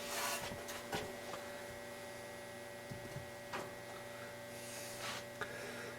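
Top cover of a Realistic Navaho TRC-457 radio being pulled off, giving a few faint scraping rubs and light knocks over a steady electrical hum, close and quiet, with no speech.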